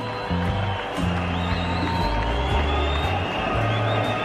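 At a 2007 Cricket World Cup match between Bangladesh and Sri Lanka, a large stadium crowd gives a loud, sustained roar that rises and falls for several seconds, with horns and chanting in the mix and no talk over it.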